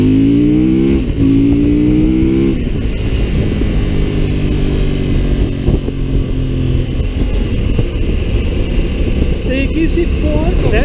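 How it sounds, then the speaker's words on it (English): A CF Moto MT800 Explore motorcycle accelerates hard under throttle: engine pitch climbs through rising sweeps, then settles into a loud, steady roar with wind noise, recorded close from the rider's position while someone talks. "So I'll give you an example of the throttle control when we boot it."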